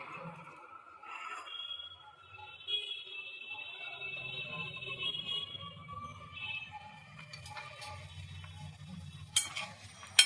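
Maggi noodles with two eggs stirred in a pan: faint, soft scraping and light sizzling, with occasional clinks of a utensil against the pan, low and steady.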